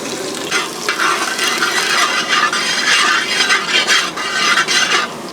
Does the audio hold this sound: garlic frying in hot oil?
yes